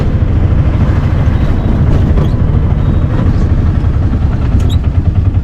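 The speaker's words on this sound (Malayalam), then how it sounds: "ട്രാക്ടർ കഴിയട്ടെ." A tractor passes close by on a road near Varanasi, its engine giving a loud, steady low rumble for several seconds with no talking.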